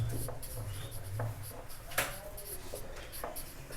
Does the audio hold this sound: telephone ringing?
no